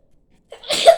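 One sharp, close sneeze bursts out after half a second of silence and lasts to the end.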